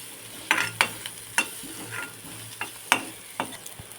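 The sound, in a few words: onion frying in a pan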